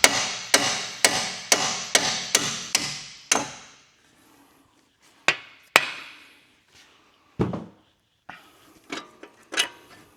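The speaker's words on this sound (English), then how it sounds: "put the nut on a little bit and then hit on the nut" A hammer strikes a nut threaded onto a bolt during a Ford Explorer ST axle disconnect replacement, a quick run of seven or eight evenly spaced blows, then after a pause a few scattered, irregular hits ring out.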